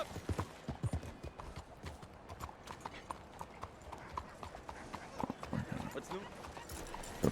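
Horse hooves clip-clop in steady, uneven beats within the Red Dead Redemption 2 video game, moderately close and fairly quiet, running throughout with someone talking over them.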